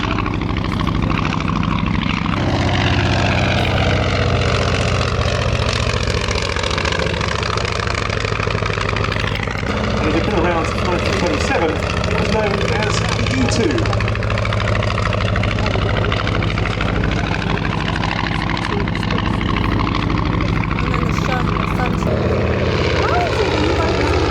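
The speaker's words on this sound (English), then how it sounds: "the Polycarp PO2, without doubt one of the longest lived and most used aircraft ever" A Polikarpov Po-2 biplane flies at the 2023 Shuttleworth airshow, its piston engine droning continuously with a slowly shifting pitch as it passes, while a commentator talks over it throughout.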